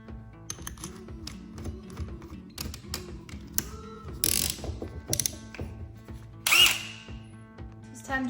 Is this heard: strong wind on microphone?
no